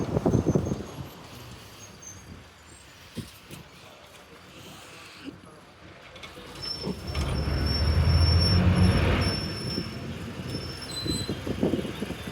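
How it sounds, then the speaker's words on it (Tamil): A train on the Coimbatore–Palani line rumbles in and grows louder, a low rolling drone with a squealing tone, swelling to a peak before easing. "எஸ் மக்களே, ஏதோ ட்ரெயின் வரப்போகுதுங்க."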